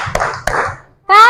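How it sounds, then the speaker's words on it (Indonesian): Students in a classroom give two sharp, close claps for presenting groups, with voices under them and a voice rising at the end. "Kita kasih tepuk wow dulu ya untuk kelompok 3 dan 4."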